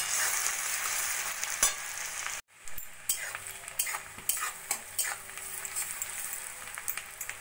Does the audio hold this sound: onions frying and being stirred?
yes